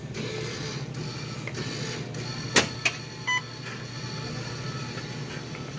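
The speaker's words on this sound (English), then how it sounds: "You can still hear the machine going. I guess it's still doling up the change." A Coinstar coin counting kiosk whirs steadily with a continuous mechanical hum, broken by a few short beeps and clicks partway through.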